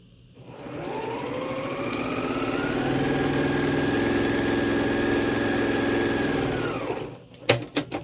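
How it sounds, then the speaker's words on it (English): Quilt block being stitched with a quarter-inch seam on a sewing machine: a steady, close motor whir that ramps up, runs evenly for several seconds, then stops, followed by a few light clicks. "I'm going to sew a 1/4 inch on both sides of the line."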